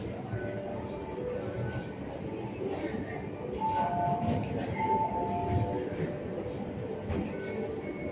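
A train at a station platform in Hong Kong, near Kowloon City, sounds as a steady low rumble with faint rattling, audible underneath the ambient noise of the platform. A voice speaks briefly over the rumble.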